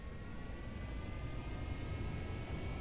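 Panther jet engine with afterburner powering an aircraft in the Kerbal Space Program game, a steady broadband roar holding level for the whole stretch with no talk.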